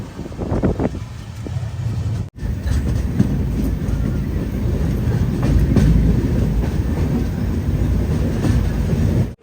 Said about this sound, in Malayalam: ബൽഹാർഷ റെയിൽവേ സ്റ്റേഷനിൽ നമ്മുടെ ട്രെയിൻ എത്തിയിരിക്കുകയാണ്